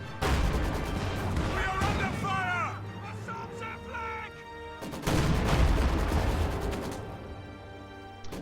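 Stuka dive-bomber barrage with heavy gunfire in the wartime strategy game Reign 2: dense, loud booms and crashes rolling throughout, a brief whining tone midway, and a fresh burst of blasts near the end, with talk over the top.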